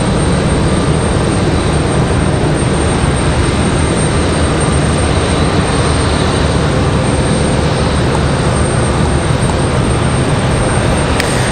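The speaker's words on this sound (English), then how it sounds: "Oh, we got an arrival. Can we get it? Can we get our arrival? JetBlue and an A220." A JetBlue Airbus A220 arriving at Raleigh-Durham airport, a steady broadband jet roar held at constant loudness throughout, with no voices.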